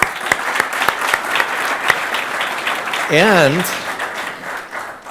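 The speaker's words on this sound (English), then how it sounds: "give yourselves a very big round of applause for being here" A conference audience at a Startup Grind event in Andorra claps steadily throughout, a dense sustained round of applause with a brief voice rising over it midway and a spoken word near the start.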